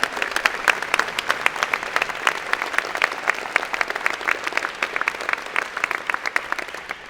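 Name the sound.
round of applause for students at convocation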